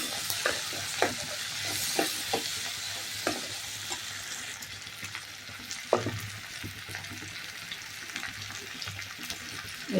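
Ginger garlic paste fries and is stirred in a pan for a rava kichadi, a steady close sizzle broken by scattered clicks of a spoon against the pan.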